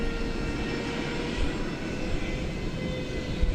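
American Airlines Airbus A321 arriving from Phoenix at Dallas Fort Worth airport, a continuous low engine roar steady throughout, fairly faint at night, with no voices.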